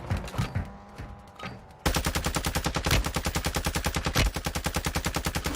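Rapid full-auto bursts from a P90 submachine gun in Warzone 2, loud and close, firing in a fast even rhythm for several seconds after a short stretch of quieter in-game noise.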